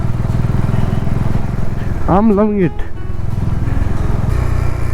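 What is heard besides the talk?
vehicle engine braking downhill in low gear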